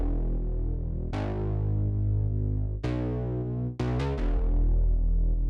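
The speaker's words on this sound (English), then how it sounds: "I also have a synth bass playing in the chorus" A deep, sustained OB6 synth bass plays a slow bass line, its long notes changing every second or so, loud and close with a few sharp note attacks near the end.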